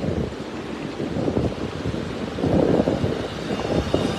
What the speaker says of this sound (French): Que vento que fa!